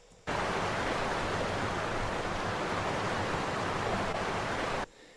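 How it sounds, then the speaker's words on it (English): Steady rushing waterfall ambience from a game audio demo built in Wwise, a dense broadband roar that switches on abruptly, holds evenly for several seconds and then cuts off. "Other things could also be the waterfall, for example, here."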